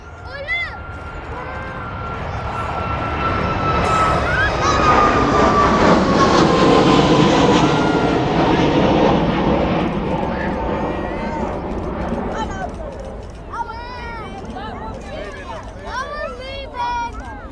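An airplane takes off from East Midlands Airport and climbs out, its engine roar swelling to a loud broad peak and then fading as it pulls away, while people talk over it and nearby.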